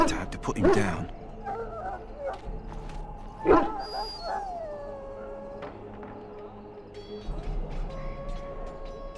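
A dog in Dragon Age: Origins gives a couple of loud yelping barks near the start, then softer whimpers and whines among game ambience and musical tones, with a voice briefly talking.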